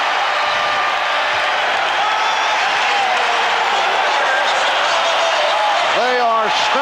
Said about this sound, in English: They are standing and cheering the Bulls, who with a late drive have taken a 30-29 lead on the Lakers